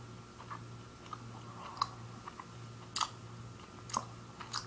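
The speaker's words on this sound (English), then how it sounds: "I'm just chewing and chewing." Snaps Classic chewy candy being chewed close up in a quiet room: soft, sticky wet clicks and smacks at an irregular pace, faint and alone over a low steady hum.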